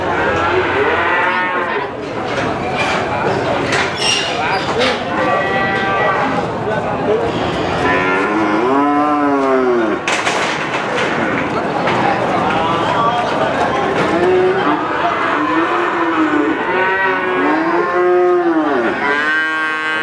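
Calves moo repeatedly at a busy cattle market in Winong, Indonesia, with loud overlapping bellows from several animals close by and crowd chatter throughout.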